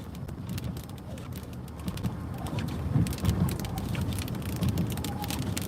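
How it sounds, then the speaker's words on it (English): Rain falls during a winter storm in Upstate South Carolina, a steady outdoor patter and hiss with a low rumble of wind and distant traffic, and a few faint bird calls over it. "Starting to hear some rain. Listen to that, everybody. That is rain."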